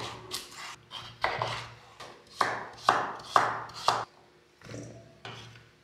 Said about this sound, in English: I want a diced carrot as well.